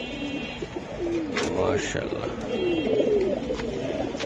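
Pigeons of fancy breeds, including military hammer and aluminium silver types, coo in a low, repeated rolling pattern close by while someone talks over them.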